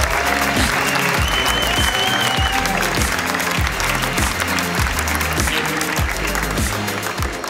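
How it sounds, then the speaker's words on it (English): Loud, sustained applause from a crowd at the World Chocolate Masters world final award proclamation, continuous clapping over a steady rhythmic musical beat, with no voices standing out. "give him an applause"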